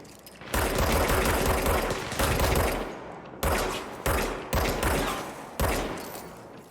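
Bursts of automatic gunfire in the video game Control, loud rapid volleys cut off and restarted several times in quick succession, with no talking.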